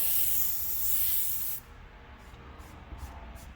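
An airbrush loaded with a four-drop paint mix sprays a steady, close, loud hiss over dark areas of a panel for about a second and a half, then cuts off abruptly, leaving a faint background with brief soft puffs.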